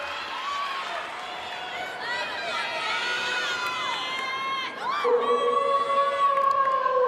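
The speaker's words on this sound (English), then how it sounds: "The crowd here getting very hyped up for her" Crowd at an NC State versus North Carolina college gymnastics meet cheering and whooping loudly and steadily, with shouts and whistles rising near the end as a floor routine begins.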